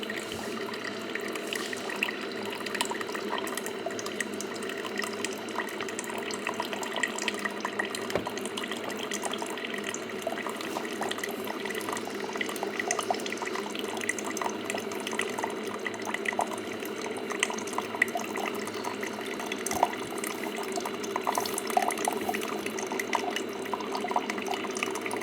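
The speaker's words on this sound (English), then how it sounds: "Look at that beautiful drip." Coffee pours steadily from a coffee maker, a continuous close trickle of liquid that holds at an even level for about twenty-five seconds with no talking.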